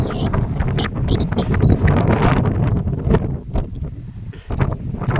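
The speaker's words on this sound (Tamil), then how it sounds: "இந்த காற்று நம்ம மேலே பகுதி வந்ததுனால காற்று ஓவர் அடிக்கிறதுனால வாய்ஸ் பேச முடியாது, திக்கி வரும்." Strong wind buffets the microphone on a hilltop at a temple site, a loud continuous roar with gusty surges and rumbling bursts throughout, no voices.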